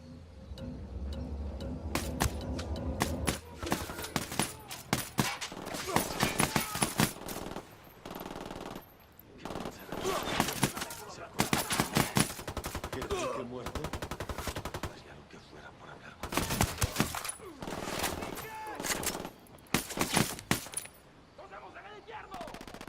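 Automatic gunfire in the video game Ghost Recon Wildlands, with dense bursts of machine-gun shots and scattered single cracks as a firefight breaks out after the squad is spotted.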